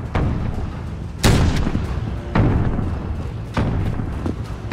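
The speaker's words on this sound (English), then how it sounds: "it was so hard to hear with all the explosions" Heavy explosions and gunfire from the Call of Duty: Modern Warfare (2019) campaign boom in four or five loud, deep blasts over a continuous rumbling battle din.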